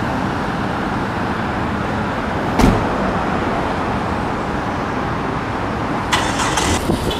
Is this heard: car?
yes